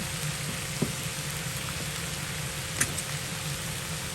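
Yakisoba noodles are stir-fried with oyster sauce and other sauces in a hot pan, a steady soft sizzle with a couple of faint utensil taps.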